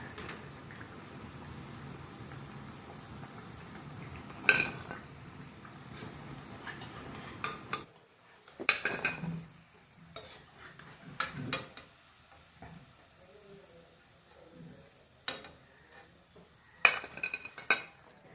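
Fried parippu vada (lentil fritters) are scooped out of a frying pan: scattered sharp metallic clinks and scrapes of a ladle against the pan over a low, steady background, with several louder knocks.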